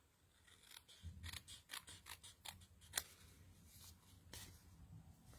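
Scissors trimming paper on a craft card, a quick run of close, crisp snips followed by a few isolated cuts, fairly quiet with no talking.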